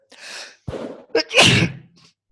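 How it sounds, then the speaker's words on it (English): One person sneezes right into a nearby microphone, with a sharp breathy intake and a brief catch before a loud, forceful sneeze that trails off into a soft exhale. "I was just sneezing into the microphone"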